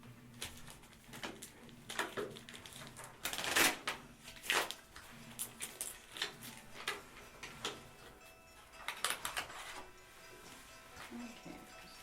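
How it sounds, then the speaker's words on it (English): Cards from the Red Dragon Inn 3 board game are shuffled close up in a quiet room, with crisp riffling bursts and snapping flicks that come in uneven clusters and short pauses between them. "Shuffle, shuffle, shuffle."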